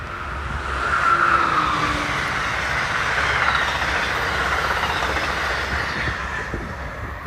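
The northbound Amtrak Crescent passenger train passes on the Northeast Corridor, a loud, sustained rush of wheels on rail with a steady roar and faint squeal, close by.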